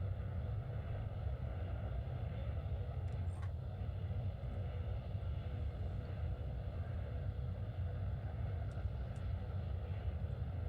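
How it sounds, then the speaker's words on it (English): Steady low roar of maneuver thrusters on a spaceship in the space game Starbase, a dense continuous rumble that holds level throughout with a few faint high ticks over it. "As soon as I had those maneuver thrusters on"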